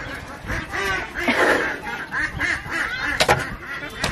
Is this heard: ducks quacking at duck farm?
yes